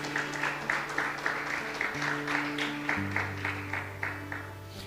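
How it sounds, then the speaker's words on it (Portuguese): A church congregation applauds in praise during a worship service, rhythmic clapping in a steady beat over sustained keyboard or organ chords that shift pitch every second or so. "Vamos, pode aplaudir ao Senhor"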